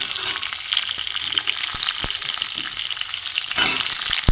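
Chunks of pumpkin and potato fry in hot oil in a pan, giving a steady close sizzle with scattered crackles and a few scraping stirs, and no voices.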